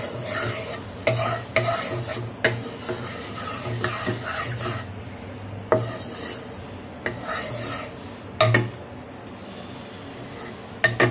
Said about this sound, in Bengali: আলুটাকে, সিদ্ধ আলুটাকে একটু নেড়ে নেবো কড়াই।